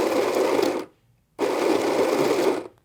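Electric coffee grinder with a 12-ounce hopper grinding beans in two pulses of just under a second each, a steady close whirring buzz broken by a short silent gap.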